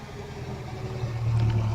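A vintage elephant-grey Rolls Royce, loaded with three people in front, idles with a low steady engine hum at a hillclimb car park, growing slightly louder toward the end.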